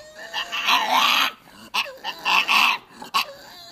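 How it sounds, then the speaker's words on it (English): A dog growls in several strained, bark-like bursts separated by short pauses, close and fairly loud. "That's the weirdest growl."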